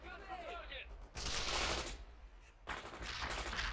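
Machine gun fire in the World in Conflict real-time strategy game, two loud broadband bursts of battle noise separated by a short lull, with background chatter mixed in.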